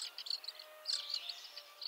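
Songbirds chirp and call in a wooded sanctuary, several short bright tweets and trills repeating close by with no voices.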